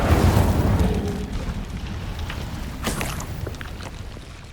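Incendio fire spell cast in the Hogwarts Legacy video game: a loud whooshing, rumbling roar of flame right at the start that slowly fades, with a second smaller crackling burst partway through. No voices.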